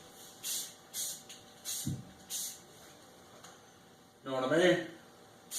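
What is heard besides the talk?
spray painting a light high-gloss coat on a drill press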